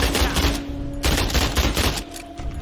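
Rapid bursts of gunfire in the video game Fallout 76, a dense rattling volley that pauses briefly and resumes, loud and close with no voices.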